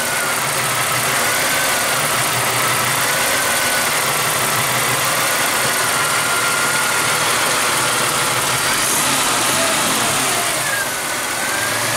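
A car engine, Silhouette project vehicle still stumbling with rich-lean fueling, runs steadily and loudly close by, rising as it is revved higher with broadband roar throughout and no talk.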